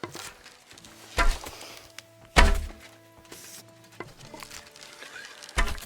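In the video game Kingdom Come: Deliverance II, arrows strike a target in sharp wooden thunks, three distinct impacts spaced over a few seconds against quiet ambient background music.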